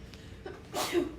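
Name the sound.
sneeze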